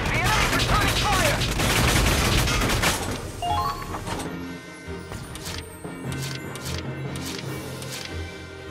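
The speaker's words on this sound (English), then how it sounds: "The enemy's returning fire." Gunfire in the video game Valkyria Chronicles 4, a loud rush of rapid shots and booms for the first few seconds, then fading into quieter battle noise with a few scattered clicks and impacts.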